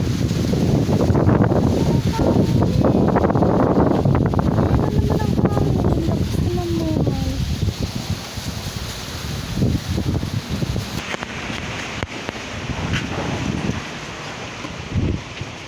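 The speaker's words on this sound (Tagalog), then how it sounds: "Ang hangin talaga." Strong wind buffets the microphone with heavy rumbling gusts, loudest in the first half, with leaves rustling and brief voice-like sounds mixed in.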